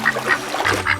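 Ducks quack in a series of short, nasal calls, about four distinct bursts in quick succession, fairly close and clear, with no talking over them.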